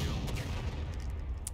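A dense rumble of massed musket volley gunfire in the video game War of Rights, many shots blending into one continuous roar with a few sharper cracks, heard from a middle distance.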